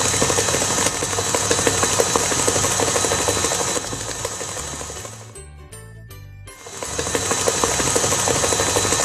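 An electric stand mixer runs at full speed through a thick gluten-free bread dough, giving a loud, steady motor whine with rhythmic knocking. It eases down briefly near the middle, then surges back to full speed.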